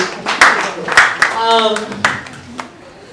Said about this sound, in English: Round of applause for our Coach Nancy.